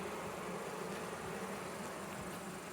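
A dense, steady hum of many bees buzzing together fills the air continuously, close and even in loudness.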